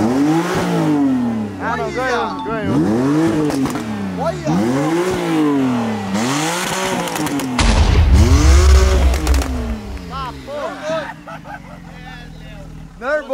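A Porsche 911 engine revs hard to high rpm several times in a row. Each loud, close rise climbs and falls back. People talk and exclaim around the revs.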